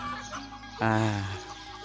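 Chickens in a rural Bru village give a short, loud cluck that lasts under a second, with faint fowl noises and a low background hum around it.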